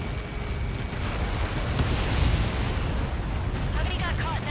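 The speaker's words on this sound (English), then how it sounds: "How many got caught in that explosion?" A massive explosion in the combat flight game Ace Combat 7 rolls as a long, deep rumbling roar that swells and then holds steady, with faint radio-style chatter in the background.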